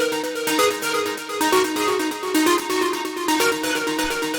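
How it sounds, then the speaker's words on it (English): A cosmic techno synth lead loops at 128 BPM, a bright, busy pattern of short repeating notes pulsing steadily and loudly with no voices. "The first sound we have here is the lead,"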